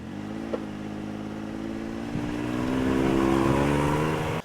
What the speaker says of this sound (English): when you first get in, start the engine,